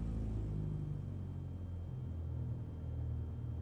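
A small aircraft engine rumbles steadily, low and continuous, idling after start-up at an airfield before a flight from Kodiak City toward Pasagshak.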